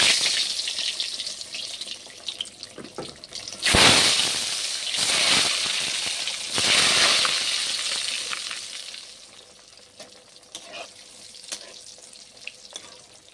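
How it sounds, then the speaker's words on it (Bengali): Eggplant, pointed gourd and potato frying in hot oil in a home kitchen, with a bright steady sizzle that swells loudly in bursts before easing to a quieter crackle, with water and stirring sounds mixed in. "এরপর আমি 5 রকম ভাজা ভাজবো।"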